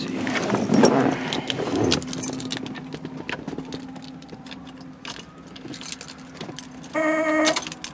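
Car keys for a 1971 Pontiac Grand Prix jangle and clink in short bursts, near and fairly loud, with a brief louder rattle at the end over a steady low hum.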